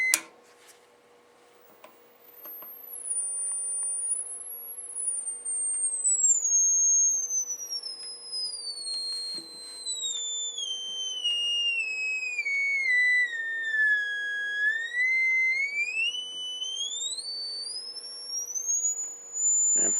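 Steady pure sine tone from a Leader LEG 55 audio generator, set on its C range, sliding down in pitch and then back up, with faint harmonics and a constant low hum underneath.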